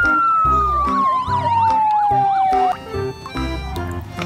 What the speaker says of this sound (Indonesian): ternyata ini truk pemadam kebakaran.